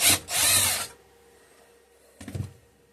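An old Kohler K241 small engine that sat for years is cranked over in two short bursts, a longer grinding turn followed by a brief choppy one, close and loud without catching, with silence in between.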